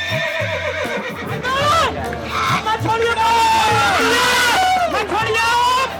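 Horses neigh and whinny repeatedly at the Sarangkheda horse fair, loud and close, over a busy crowd murmur with scattered hoof clops throughout.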